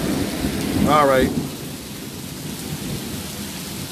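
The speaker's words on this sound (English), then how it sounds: "It's raining, it's pouring, y'all." Heavy early-morning rain pours in a steady wash with a low rolling rumble of thunder underneath, while a voice speaks briefly near the start.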